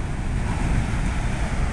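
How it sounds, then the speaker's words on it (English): Heavy surf from a hurricane pounding a south shore beach near West Whale Bay, a deep continuous roar of crashing waves with strong wind buffeting the microphone, loud and unbroken. "So I don't know if the power of these waves is audible"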